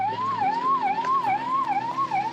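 An ambulance siren wails in a steady rising-and-falling cycle while stuck in road traffic, loud and close, sounding alone without voices.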